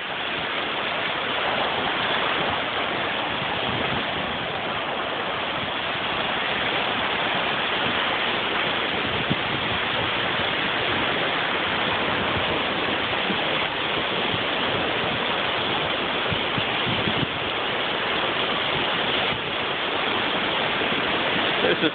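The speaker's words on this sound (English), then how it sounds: "And now you should be able to see the waterfall for sure. Little stream coming down through there." A small waterfall and stream at Pictured Rocks near Munising, Michigan, pour in a continuous, dense rush of falling and flowing water that stays loud and even throughout with no voices.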